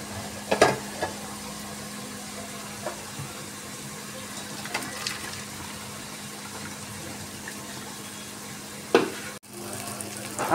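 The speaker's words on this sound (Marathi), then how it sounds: "आपला टोमॅटो छान परतून झालेला आहे" Tomatoes sautéing in a pan for chicken biryani give a steady, soft sizzle, broken by a few sharp stirring scrapes near the start, middle and end, with no voices.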